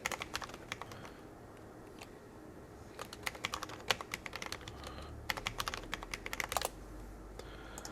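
A new password is typed on a computer keyboard during Windows setup of a Microsoft Teams Room system, with irregular bursts of quiet, close key clicks and short pauses between them, and no talking.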